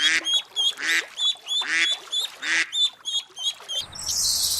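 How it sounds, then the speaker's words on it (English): A duck quacks repeatedly in a steady series of loud, close, evenly spaced calls, with a hissing burst of noise at the end. "duck,"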